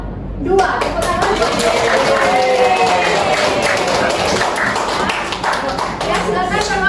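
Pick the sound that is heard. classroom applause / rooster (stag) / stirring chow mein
classroom applause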